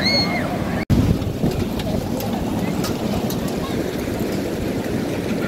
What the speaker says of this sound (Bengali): এই যে ঢেউ এগিয়ে চলে আসলো